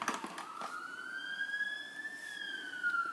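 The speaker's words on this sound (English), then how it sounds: "ambulance passing by" An ambulance siren passes by outdoors, a single rising and sustained wailing tone at moderate distance, alone without talk.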